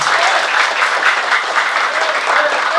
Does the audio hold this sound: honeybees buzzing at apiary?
no